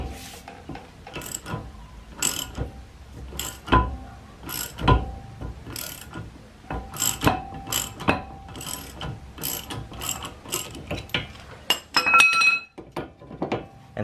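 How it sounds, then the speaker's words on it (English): Ratchet clicking and clanking while turning a brake rotor bolt on an NA Mazda MX-5 Miata, heard as repeated sharp metallic clicks and clinks in irregular bursts, close and fairly loud, with no talk. "Then grab your ratchet and turn the bolt all the way till it cracks."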